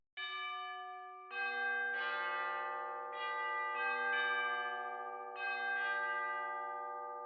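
Tubular bells from a sampled orchestral library strike a series of bright, resonant metallic notes, each one ringing on and overlapping the next in a clean, sustained peal.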